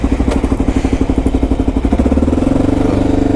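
A motorcycle engine pulls away close by, its loud pulsing chug quickening from a lumpy low-speed throb into a smoother, faster drone as it accelerates.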